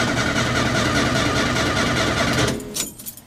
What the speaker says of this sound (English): And the engine cut out. I'll try and restart it.